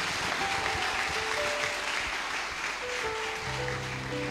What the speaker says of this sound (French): Acclame bien pour mon père spirituel.